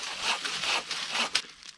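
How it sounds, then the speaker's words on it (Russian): A hand saw cuts through wet, unseasoned tree wood outdoors in a damp forest, giving close, rasping strokes in an uneven rhythm. "Как пилит эта ножовка по сырому дереву"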